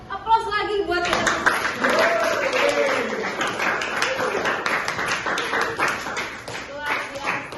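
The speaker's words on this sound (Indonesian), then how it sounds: "Aplaus lagi buat kita." A class of students claps together in a classroom, a dense, steady burst of applause lasting several seconds, with excited voices and talk mixed in over the clapping.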